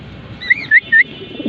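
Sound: racing pigeons cooing

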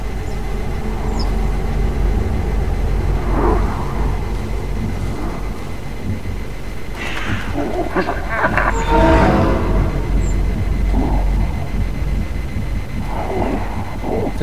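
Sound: train in the video game Little Nightmares II

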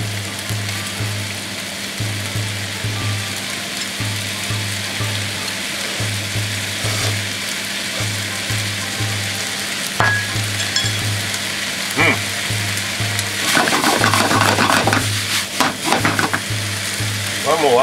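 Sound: frying sauce yakisoba on a griddle

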